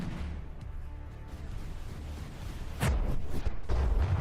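Proximity-fused shells burst during a naval battle in the From the Depths game: a steady low rumble of combat, then two sharp, loud explosive bursts near the end.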